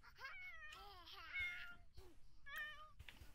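A cat meows repeatedly in The Sims video game: a string of wavering, close, clear cries in quick succession, with a short pause before a final pair of meows.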